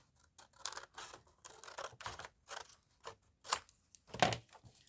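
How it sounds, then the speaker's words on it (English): Scissors trim excess from a sturdy bird-themed journal page in a series of short, close snips and rustling paper cuts, several quick bursts with brief pauses between them. "So I'm going to trim off that excess again."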